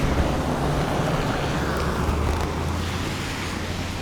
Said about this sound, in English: That wind is quite challenging.